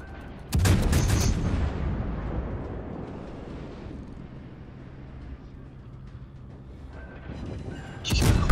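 Heavy naval guns fire in World of Warships, a loud booming blast followed by a long rumbling decay, then another sharp blast at the end.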